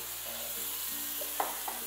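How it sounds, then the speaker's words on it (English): Onion and dressing sizzle in a hot frying pan, a faint, steady hiss with a couple of small crackles and a brief stir, with no talking. "Oh, I like the sizzle."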